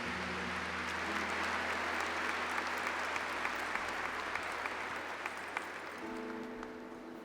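A church congregation claps at Mass after the Gospel reading, steady dense applause from the whole room lasting several seconds, with faint murmuring beneath it.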